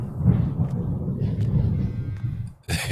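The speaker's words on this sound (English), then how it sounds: "So you're probably going to hear some pretty hefty thunder in the background" Thunder from a massive storm outside rolls as a deep, continuous low rumble, muffled as if heard indoors. It fades briefly near the end before a sharp rustle cuts in.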